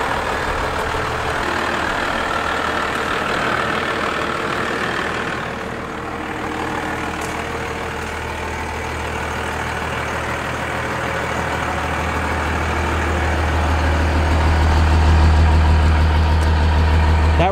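A 12-valve Cummins diesel in a truck with a 5-speed manual idles steadily and close by, a low, even rumble running throughout with no voices.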